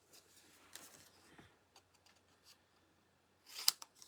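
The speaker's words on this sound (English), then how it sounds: "So I'm just going to take my scissors" A few quiet, crisp snips of scissors cutting paper, scattered across a near-silent stretch, with one sharper snip close by near the end.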